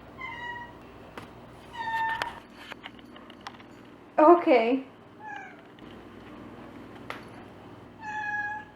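A cat meows several times nearby, one loud drawn-out yowl in the middle, with a person speaking briefly between the cries.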